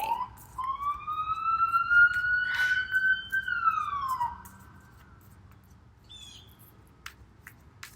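A single siren wail rises and falls over a few seconds, fairly clear but somewhat distant, then fades to quiet with faint ambient noise.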